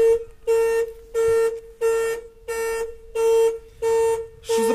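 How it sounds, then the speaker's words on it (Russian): A Zaporozhets car alarm, set off by turning the key, blares in steady, evenly spaced horn-like pulses, loud and close, repeating about eight times without any talking. "Когда я поворачиваю только ключ в машине, начинает срабатывать сигнализация."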